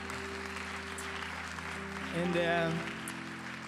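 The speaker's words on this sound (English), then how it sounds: "can you just give yourself a big round of applause" Inside a church, a congregation gives soft, diffuse applause that sounds distant and faint under a steady hum, with a brief voice cutting in partway through.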